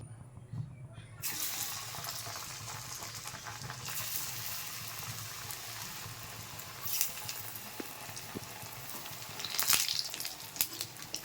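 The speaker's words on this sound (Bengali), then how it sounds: "এবার আমি কিন্তু আবার ফ্রাই করে নেব" Pieces of gram flour (besan) frying in hot oil give a steady broadband sizzle and crackle that runs the whole clip, with a few louder pops toward the end and no talk.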